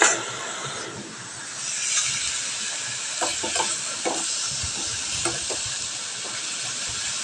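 Pieces of lightly fried chicken are set one at a time into a hot pan, a steady sizzle of oil with soft clicks and stirring knocks, close and fairly loud, no voices.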